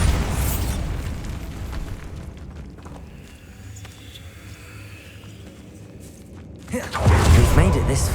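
Bombarda spell explosion in the Hogwarts Legacy game: a low rumbling stretch gives way to a loud, sudden boom near the end.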